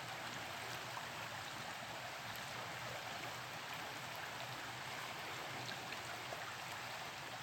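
A creek running high after heavy rain rushes in a steady, soft broadband wash of flowing water, continuous and even, heard from a short distance with no talking.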